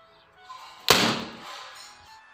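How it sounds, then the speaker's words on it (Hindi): Homemade sulfur-and-potash wall bomb firecracker thrown down and exploding, a single sharp bang after a faint lead-in, with a decaying tail that fades over about a second. "तो सबसे पहले मैं आपको एक दीवार बम पटका के दिखा देता हूं।"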